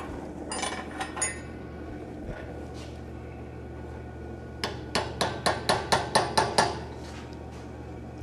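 A blacksmith's hammer strikes hot steel, shaping the ears of a forged piece during a smithing conference demonstration: a few scattered blows, then a quick run of about eight ringing, evenly spaced strikes over a low background hum, with no speech.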